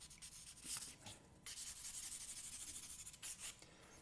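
Soft willow charcoal from Coates of Somerset rubs and scratches across paper in short, quiet, breathy strokes, with a couple of longer sweeping passes and no voices.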